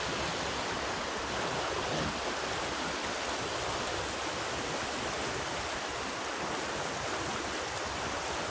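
Steady rushing water flows continuously without pause, a broad, even roar like a fast river close by.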